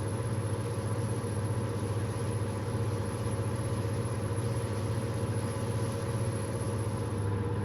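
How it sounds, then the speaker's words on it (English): A steady, high-pitched turbocharger whine rides over the constant rumble of a heavy truck engine from inside the cab during a CDL test drive, with no talking. "Hear that turbo screaming?"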